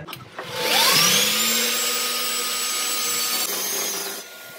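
A vacuum cleaner used for dry core drilling whirs up to speed and runs at a steady, loud whine before cutting off.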